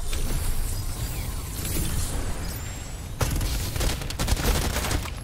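Rapid gunfire bursts crackle through a mobile battle royale shooter resembling PUBG, with dense noisy shots under constant background game sound and a sharper volley in the second half.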